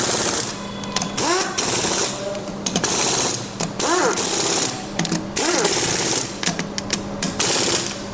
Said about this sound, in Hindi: अब हम एक बार में प्रॉपर टाइट करेंगे।